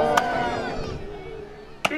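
Competition axe blows biting into a wooden block at a woodchopping race, two sharp, loud chops about a second and a half apart, over a murmuring crowd and a voice talking.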